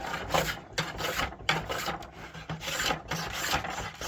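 A hand plane takes fine shavings off a wooden war arrow shaft in a steady series of rasping strokes, each pass a short scraping rub repeating at a regular rhythm, close and moderately loud with no talking.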